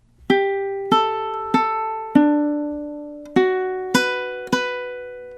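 Ukulele playing measure 4 of a song, barred across all four strings, seven clear plucked chords in steady time, each ringing and decaying, close and alone.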